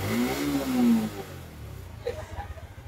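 A freshly top-overhauled Suzuki Smash 115 motorcycle engine, with cleaned carburetor and new chain set, revs up close, its tone rising and then falling back into a steady, slightly rattly idle.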